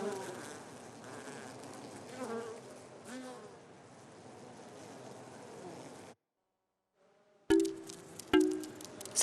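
Honeybees buzz in a steady, dense drone for about six seconds, then a short silence, then a few louder, closer buzzing bursts with sharp clicks near the end.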